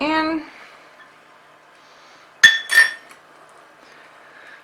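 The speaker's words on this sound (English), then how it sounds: "So I'm going to add the maple syrup in here. Mix it" A utensil clinks twice against a mixing bowl as maple syrup is stirred into vegan banana bread batter, two quick close bright taps following a brief bit of speech.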